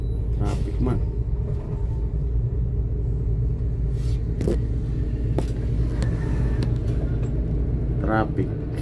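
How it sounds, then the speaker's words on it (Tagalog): Road traffic at a busy street corner in Tacloban, a steady loud rumble of car and bus engines with passing vehicles and a brief horn-like tone, people talking throughout. "Traffic sa kanto."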